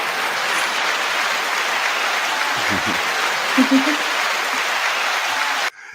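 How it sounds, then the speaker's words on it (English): Applause from a podcast audience rewarding super chats, a steady dense wash of clapping that runs for several seconds at even volume before cutting off abruptly, with a brief low voice murmur partway through. "9 second applause for super chats."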